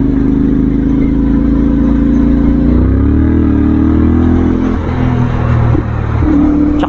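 A CFMoto 450MT motorcycle with a 270-degree crank parallel-twin engine runs steadily up close, its loud, throbbing low rumble rising briefly in pitch as it revs, then settling back to a steady drone with slight throttle changes.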